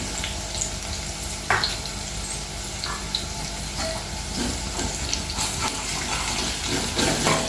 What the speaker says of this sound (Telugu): పచ్చివాసన వరకు వేపుకుందాం